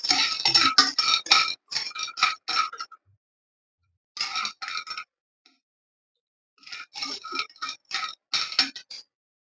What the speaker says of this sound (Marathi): हे थोडं तेल घ्यायचं आणि तेलात हे परतून घेऊया आपण.